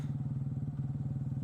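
A motorcycle rides through the Kawengan anticline in Bojonegoro Geopark, its engine giving a steady, close, low pulsing throb with no talk.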